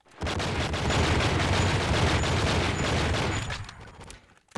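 Sustained gunfire from the video game True Crime: Streets of LA, a dense, continuous fusillade of shots holding steady for several seconds before tapering off abruptly near the end, with no talk over it.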